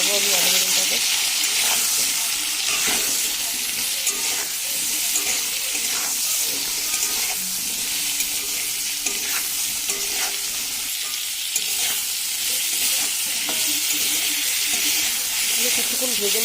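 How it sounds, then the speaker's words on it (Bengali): Cubed potato and eggplant fry in a pan with salt and turmeric, giving a steady loud sizzle with repeated scraping stirs throughout. "এবার ভালো করে নেড়ে ভেজে নেবো আমি আলু বেগুনটাকে।"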